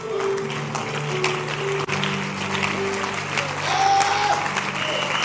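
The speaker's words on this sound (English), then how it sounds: "Those who fasted, they are clapping." A church congregation claps during a fasting service, steady broadband clapping throughout, with a loud voice speaking over it and a sustained musical tone underneath.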